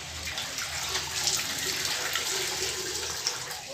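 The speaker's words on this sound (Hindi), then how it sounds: "तो अभी मैं इनको नॉर्मल वॉश करूँगा दोस्तों।" Running water splashes continuously as turmeric-stained pants are washed under a tap, a steady close rush with small splashy bursts and no talk.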